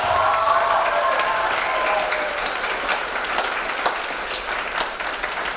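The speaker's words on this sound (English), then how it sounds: "Let's give a round of applause for her." A school musical audience claps for a drama teacher, a broad, full crowd applause that stays strong and even throughout, with faint voices mixed in at the start.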